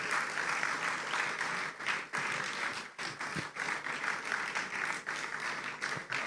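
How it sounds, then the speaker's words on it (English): Applause for the chairman at the launch of a renewable asset management company, a steady crowd clapping with no pauses, heard from within the hall and moderately loud. "I see the applause going on for the chairman."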